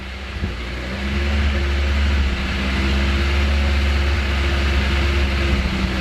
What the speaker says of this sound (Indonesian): Suaranya mengaung kayak motor cc besar ya